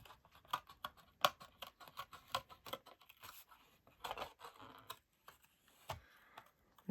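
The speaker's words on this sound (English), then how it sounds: "These are my Pergamano scissors" Pergamano scissors with curved blades snip around a paper card in a quick, irregular series of faint, close crisp cuts separated by short pauses.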